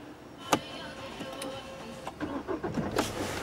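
A used Hyundai ix35 Premium diesel with manual gearbox started by its start/stop button inside the cabin: a click, a brief crank, then the engine catching and settling into a low idle.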